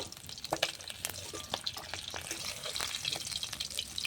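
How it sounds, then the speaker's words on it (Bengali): Rohu fish pieces fry in oil on a clay stove, giving a steady close sizzle broken by sharp spatters and the clatter of a turning spatula, with no talk. "আবার একটু লাল করে ভেজে নেব মাছগুলো"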